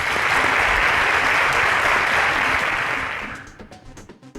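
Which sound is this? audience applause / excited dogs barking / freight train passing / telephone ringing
audience applause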